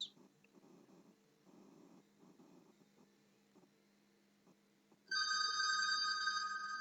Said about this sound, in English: I don't know how much my mic picked up the phone